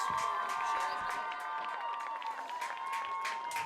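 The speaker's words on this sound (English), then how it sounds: "Ladies and gentlemen, one last round of applause for our homecoming candidates." At a high school football game, a stadium crowd applauds and cheers for homecoming candidates, a distant mix of clapping and shouts with a sustained tone running underneath.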